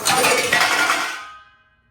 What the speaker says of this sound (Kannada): ಬಿತ್ತು ಒಂದು ಪ್ಲೇಟ್ ಅದರಲ್ಲಿ